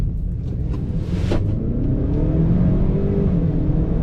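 A Ford Maverick pickup accelerates hard, its engine droning loud and continuous from the cabin, pitch climbing steadily through the gear with heavy low rumble and road noise throughout.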